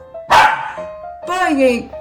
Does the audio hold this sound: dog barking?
yes